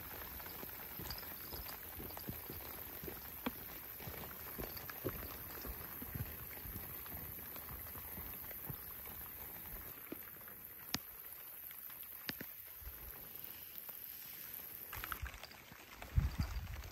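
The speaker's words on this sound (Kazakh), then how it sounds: "Жаңбыр жауып жатыр." Rain falls steadily on a riverside fishing camp on the Nura, a faint, even patter of drops with scattered soft taps on nearby surfaces. It runs quiet and continuous throughout, with no voices.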